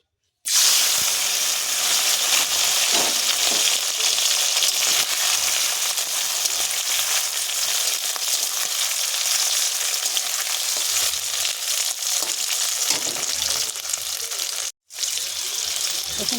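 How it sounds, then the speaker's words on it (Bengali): Chopped shrimp hitting hot oil in a wok and frying with a loud, dense, bubbling sizzle that runs almost unbroken apart from one brief cut near the end, with no talk. "তেলটা গরম হয়ে গিয়েছে এবার আমি এখানে দিয়ে দেবো কেটে রাখা চিংড়ি মাছ"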